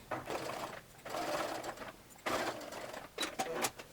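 A sewing machine stitches double fold bias tape in short bursts, with brief pauses between runs and a few quick stitches at the end, close and fairly loud.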